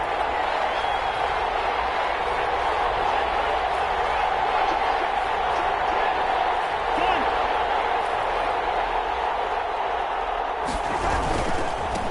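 A stadium crowd in a Madden football game keeps up a steady, loud roar before a big third down, with commentary voices talking over it.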